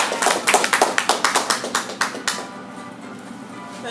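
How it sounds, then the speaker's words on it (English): About a dozen sharp, evenly spaced claps ring out in a small room, close and distinct like a handful of people or one person clapping, then stop abruptly, leaving quiet room tone. "I would like to introduce you and like to have a nice round of applause"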